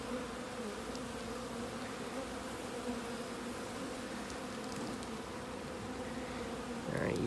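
Honeybees buzzing steadily around a nuc hive being installed in Central Connecticut, a dense, continuous hum close by, fairly quiet, with a brief louder rustle at the end.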